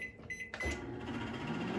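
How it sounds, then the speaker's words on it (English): Beeps from a microwave keypad, then the low steady hum of the oven starting to run while melting chocolate. "I'm just going to give this a couple of more seconds in the microwave."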